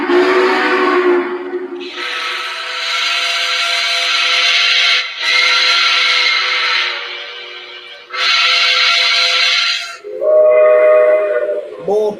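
Model train steam whistles sounding in long sustained blasts, one after another with short gaps, loud and close, the last a lower, different-toned whistle.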